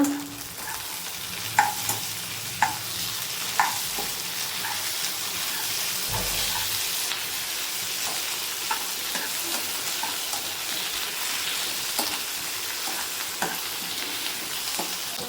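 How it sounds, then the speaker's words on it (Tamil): Onions and tomatoes sautéing in a pan at home, with steady sizzling and frying hiss while a spoon stirs, scraping and tapping against the pan at irregular intervals, close and with no talking. "இப்போ நான் தான் வதக்கிட்டு இருக்கேன் பாருங்க."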